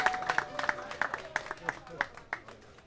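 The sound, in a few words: audience applause for the canoe kayak champions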